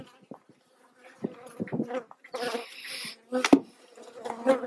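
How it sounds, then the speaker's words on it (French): Honeybees buzz around a beekeeper at close range during a honey harvest, in bursts, the droning rising and falling between bumps and handling noises. "J'ai les abeilles autour de moi"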